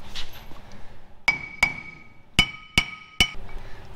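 A hammer taps a bearing onto a seal on a 1942 Chevy hot rod, six sharp metallic strikes with ringing tones, spaced in two groups and heard clearly over quiet workshop background.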